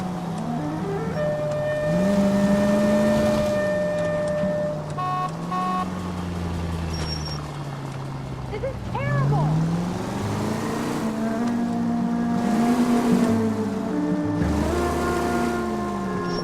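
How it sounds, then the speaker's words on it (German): A car engine in the video game L.A. Noire hums steadily during a chase, its pitch rising and falling as the driver accelerates and eases off. Game music plays faintly underneath. "Das Auto schnurrt wie ein Kätzchen."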